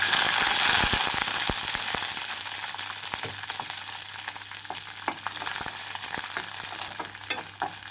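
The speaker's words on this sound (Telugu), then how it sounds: "పండు మిరపకాయలు వేసి వేయించుకుంటున్నాను" Red chillies frying in about three spoons of oil for a ridge gourd chutney, a steady loud sizzle with crackles and stirring scrapes throughout, slowly settling.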